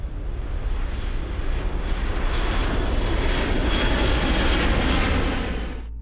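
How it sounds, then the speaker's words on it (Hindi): A two-year-old Airbus airliner with two Rolls-Royce engines flies out of Toronto International Airport, a loud, steady, broadband engine roar that holds constant throughout before cutting off at the end. "एक 2 साल पुराना एयरबस प्लेन 2 रोल्स रॉयस के इंजन के साथ टोरंटो इंटरनेशनल एयरपोर्ट से उड़ता है।"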